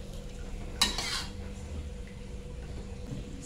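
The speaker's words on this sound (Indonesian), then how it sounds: "Saya aduk-aduk rata kembali." A single scraping stir of food in a frying pan while home cooking, with a brief clatter of a utensil against the pan over a low, steady sizzle. No voices are heard.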